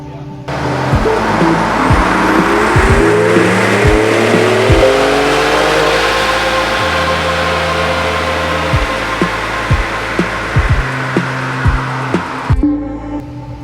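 A stock 2019 Ford Raptor Gen 2 truck tuned on 91 octane runs a dyno pull, its engine roaring loud and close as revs climb repeatedly through stepped gear changes before cutting off near the end.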